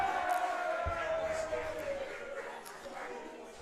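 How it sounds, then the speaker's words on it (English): Boisterous crowd at a women's university soccer match, a steady roar of cheering and chatter filling the stands, with a brief thump near the start. "boisterous crowd here tonight"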